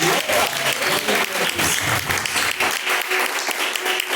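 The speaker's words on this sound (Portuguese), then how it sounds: "Receba a bênção, as palmas" Congregation clapping steadily in church at a live worship service, a dense, continuous applause that stays loud throughout with faint voices underneath.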